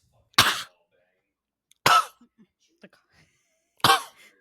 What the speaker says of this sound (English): The cough is crazy.